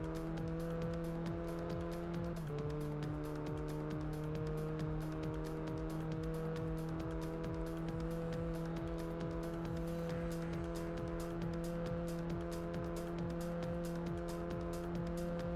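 Racing engines from the Volkswagen W12 Concept and rival cars in Test Drive Unlimited on PS2 hold a steady, loud droning whine throughout, with one pitch drop around the two-second mark like a gear change and no speech.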